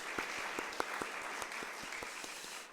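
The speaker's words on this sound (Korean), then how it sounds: "다시 한번 우리 귀한 훈련으로 우리 과운단을 방문해 주신 우리 귀한 2대 친구들을 위해서 큰 박수 하겠습니다." A church congregation at a Sunday worship service applauds visiting soldiers from an army brigade: a short burst of moderately distant, fairly soft clapping with a few sharper individual claps standing out.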